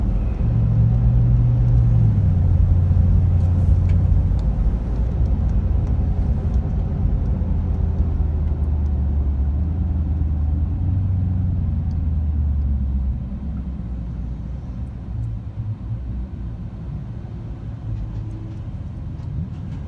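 A Suzuki Gixxer 600 motorcycle idling nearby, a steady low engine rumble that drops slightly in level partway through.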